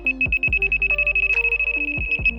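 A rapid run of high electronic beeps from a Siren R4 fishing bite alarm, steady and loud, with a few low thumps at the start and end.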